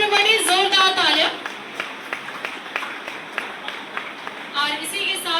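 Audience applause at a company's grand anniversary celebration: scattered claps rise into steady clapping between an announcer's energetic talk at the start and end.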